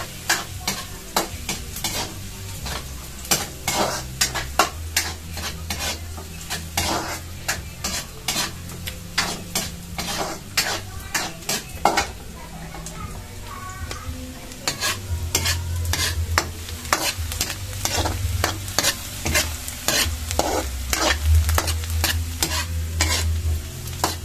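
Garlic and onion sizzle and fry in a pan for chicken adobo, a steady close crackle broken by repeated scraping stir strokes throughout, with no talk.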